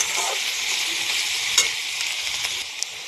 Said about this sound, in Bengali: এবার এখানে ভাজা ভাজা করে নিতে হবে